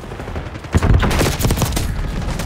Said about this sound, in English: Alright, they're still shooting. They got the LMG.